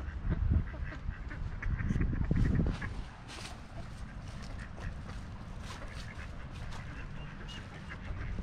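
Ducks quack in a loose chorus, louder at first and then scattered, with steady outdoor background noise around them.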